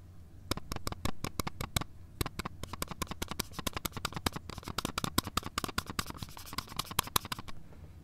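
A loose battery cover on a Zoom H4n recorder rattles in quick, dense bursts of small clicks, close and fairly quiet, continuing steadily without talk.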